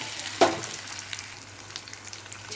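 Oil sizzles and crackles steadily in a pan as potatoes fry after the tempering, following a brief clatter at the start, a close, continuous frying sound with no voices.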